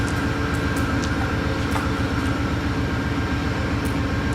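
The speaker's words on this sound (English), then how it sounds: "Moving to the other end of 48, we now see the train running as the ID 448." Amtrak 48 rumbles past Buffalo Depew Station, a steady, loud rolling of wheels on rails with a faint high tone throughout.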